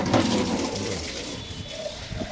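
Water splashes and pours steadily during the bathing of an animal, with soap being scrubbed in. The sound is a continuous, moderately quiet gush with no voices.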